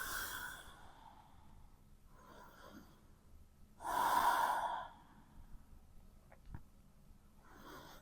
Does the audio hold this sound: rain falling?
no